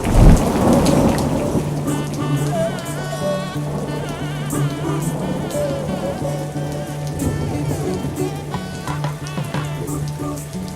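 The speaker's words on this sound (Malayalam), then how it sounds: "പ്ലസ് ഭയങ്കര മഴയും ഇരുണ്ട് ഇടിയൊക്കെ വെട്ടുമായിരുന്നു." Heavy rain and a thunderstorm: steady loud downpour hissing on surfaces, with a deep rumble of thunder at the start and low rolling under the constant rain.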